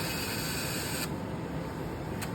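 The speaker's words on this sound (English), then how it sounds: "You put the money back into the machine. You will hear it cycle." A BB2 slot machine's cash box cycles after money is fed back in, giving a steady mechanical whir that shifts tone midway and ends in a short sharp click, close and alone.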